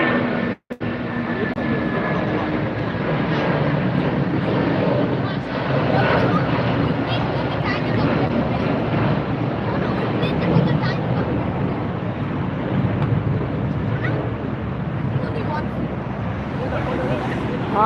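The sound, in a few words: airliner departing LAX airport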